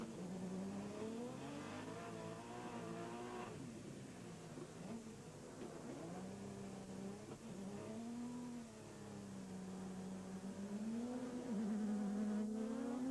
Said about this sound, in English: Great sounds of the engine as well as they slide it around.